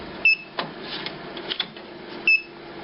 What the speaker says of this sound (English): You can hear the Designjet beeping to say it's accepted the inks.